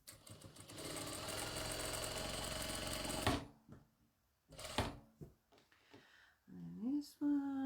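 A sewing machine stitches fabric for half square triangles in a steady, loud mechanical whir for about three seconds, then stops abruptly. A few brief handling sounds and a short voice follow.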